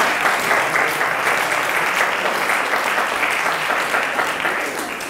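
A large audience applauds at the 2019 Université Bordeaux Montaigne graduation ceremony, a loud, continuous wash of clapping that stays steady and fades slightly at the end.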